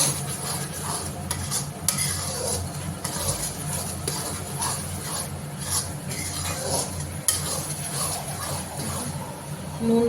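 Ground cumin, coriander, chili powder and turmeric stirred in a frying pan for a katla fish yogurt gravy, giving a steady low sizzle and scraping rustle with occasional utensil clicks throughout.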